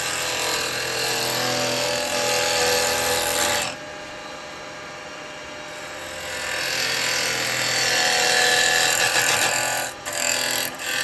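A woodturning gouge rides its bevel and cuts wood on a lathe, making a loud, continuous rasping roar. The cut breaks off for a couple of seconds, then resumes and runs on.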